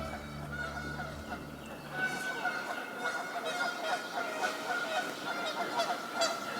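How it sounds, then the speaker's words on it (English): Geese honking: a rough, repeated series of nasal calls in quick succession, fairly close and loud, over a faint low background hum at the start. "I'd like to do 30 seconds of Goose Listen."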